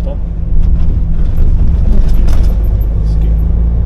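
A truck rumbles along with a loud, continuous low engine drone and intermittent clattering and rattling bursts from the cab and load.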